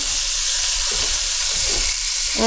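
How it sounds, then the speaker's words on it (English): Onions sauté in a hot pan with a loud, continuous sizzle and hiss, broken by a few stirring scrapes. "We're going to saute them till they're translucent."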